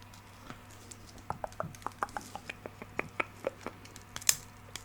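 Plastic packaging is torn by hand, crinkling and ripping in a series of short, sharp snaps and tears, close by and fairly quiet, ending with a louder rip.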